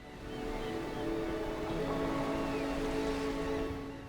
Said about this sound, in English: Waves from the Pacific Ocean continuously roll into the rocky reefs